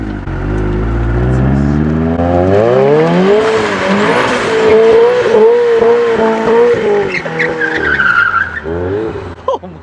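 A car with Brembo brake upgrades revs hard nearby, its engine note sweeping up and down in loud repeated climbs with some tire squeal mixed in.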